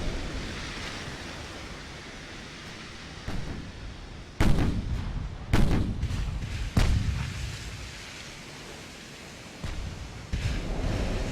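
Naval gunfire from warships in the video game Ultimate Admiral: Dreadnoughts, heard as several deep, booming distant shots spaced a second or two apart over a steady wash of sea and wind noise, with no one talking.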